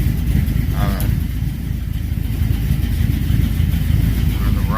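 The 5.3 LS swapped engine of a 1968 car runs steadily with a loud, rough idle rumble close by, and a person talks over it.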